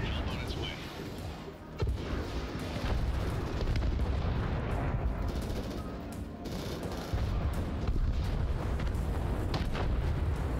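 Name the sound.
napalm strike explosions in video game Crossfire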